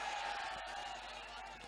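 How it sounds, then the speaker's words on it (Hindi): An audience applauds at a mushaira poetry gathering in Pratapgarh, a faint, continuous wash of many clapping hands heard from some distance. "एक बार जोरदार तालियां बजा"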